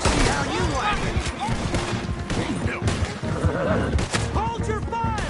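Gunfire in a Red Dead Redemption 2 shootout: dense, rapid volleys of close and distant shots crack continuously, mixed with shouting voices and battle commotion.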